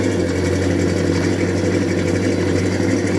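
A 1967 Plymouth GTX with a 440 V8 and automatic transmission idles steadily while warming up, a close, loud, even low rumble with a constant throb and no talk.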